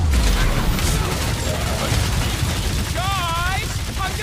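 Rocket fires his guns at a huge bot in the Guardians of the Galaxy video game, steady rapid gunfire and booms throughout, with a voice talking over the shooting near the end.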